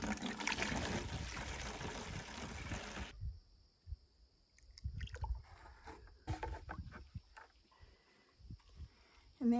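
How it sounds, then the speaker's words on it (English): Compost tea is poured very slowly from a container and strained into an old plastic milk jug: a loud, steady rush of liquid for about three seconds, then quieter, uneven trickles and dribbles. "and do a very slow pour."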